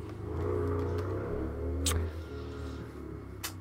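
An engine revs loudly and steadily, then eases off and settles into a lower rumble, with a couple of brief bright bursts on top. A motorcycle is heard over a game voice chat.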